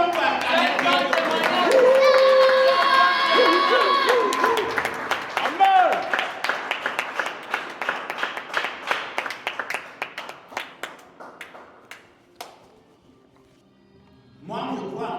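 A church congregation breaks into applause and cheering, voices rising and sustained at first, then thinning into scattered, rhythmic clapping that fades before a brief renewed swell.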